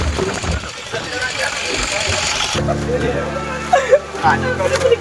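A boat engine on Chilika lake at Satapada, Odisha, idles with a steady low hum that sets in partway through, while voices and general bustle carry on throughout.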